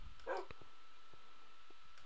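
A dog from the video game Minecraft gives a short, faint bark or yip, followed by a few soft clicks in a quiet setting.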